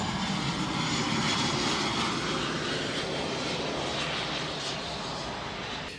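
An airplane landing nearby gives a loud, continuous broadband roar that holds steady and eases slightly toward the end, with no talking.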